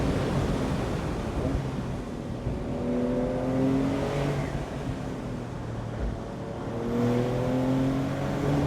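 A 2025 Porsche 911 S Cabriolet with an 8-speed dual clutch automatic accelerates on the road, its engine note rising through rev sweeps with brief shift breaks over a broad wash of wind and road noise.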